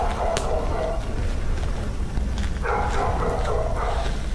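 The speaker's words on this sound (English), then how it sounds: "more dogs still barking from inside" Several dogs bark from inside a building, a steady stretch of muffled barking that comes in bursts, heard at a moderate distance with a constant noisy background.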